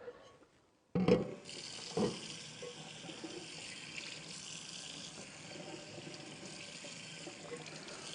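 Running tap water rinses a microwave part at a sink. A few splashy thumps as the part goes under the stream give way to a steady, moderate rush of flowing water with no voices.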